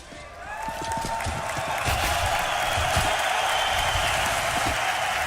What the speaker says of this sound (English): He wants to hear the crowd get loud for NiP.